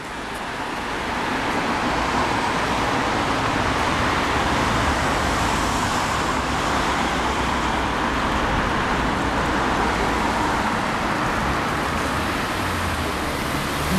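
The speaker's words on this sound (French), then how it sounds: "il y a quand même un peu de voiture qui passe" Steady street traffic rumbles past in a town setting, a continuous broadband wash of cars with no distinct gaps, fairly loud and close throughout, with no voices over it.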